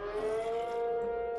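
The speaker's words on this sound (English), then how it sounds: "I guess that siren just indicated that tornado for me." A tornado warning siren from a Minecraft weather mod during a storm, a steady wailing tone held at moderate distance and fairly faint, alone without speech.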